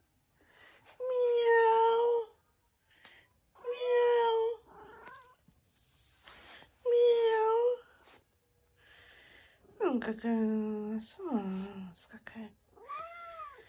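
A very fluffy female cat meows several times in drawn, rising and falling calls, close and clear, with a person talking softly between the meows.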